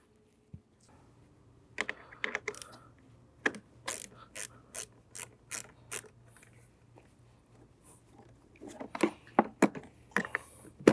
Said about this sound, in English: So now we'll take our 10mm ratchet and disconnect the negative terminal on our battery for safety.